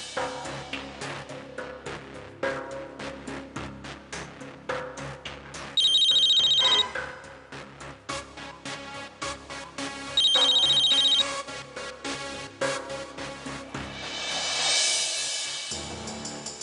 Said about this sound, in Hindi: किसका फोन है देख बेटा